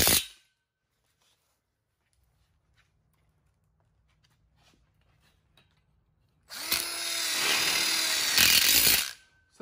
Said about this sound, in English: next you're gonna wanna screw in all these end frames and length wall tubes into the three-way corners